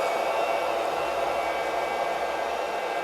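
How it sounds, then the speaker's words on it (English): A home coffee roaster blows hot air over coffee beans, a loud, steady, even whoosh like a hair dryer that holds without change, close up and with no voices. "as the beans get all this hot air over them, they start to dry out"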